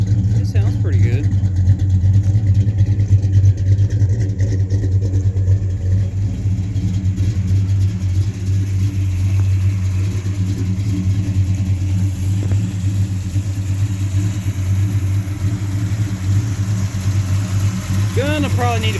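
A 1967 Chevelle 300 two-door post with an Edelbrock carburetor, running with Flowmaster 40 mufflers on a 2.5-inch H-pipe exhaust, holds a loud, steady, close idle rumble, with someone talking over it.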